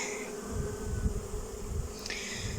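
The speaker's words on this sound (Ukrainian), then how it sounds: "Зараз ці бджолочки, що залишилися в нуклеусі, вони всі перейдуть сюди в вулик до своєї мами." Honeybees moved from a nucleus box into a new hive, a low continuous buzzing from many bees close by, swelling and fading slightly with no talk.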